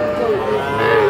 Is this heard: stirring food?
no